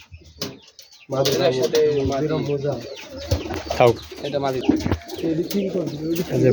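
Giribaz pigeons of the Rajshahi breed, color-matched with dense feathering, coo softly and repeatedly while someone talks close by for most of the stretch.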